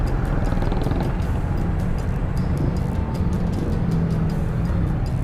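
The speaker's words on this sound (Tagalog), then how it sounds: "maraming traffic oh" Heavy traffic crawling along the narrow, crowded West Bank Road by the floodway in Cainta, Rizal, with tricycles: a loud, dense rumble of engines close by, punctuated by repeated sharp clicks and rattles.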